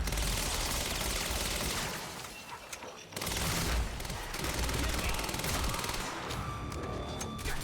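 Advanced SMG firing in Quantum Break, rapid bursts of automatic fire fairly quiet in the mix, broken by a short lull before the shooting resumes in dense, crackling volleys.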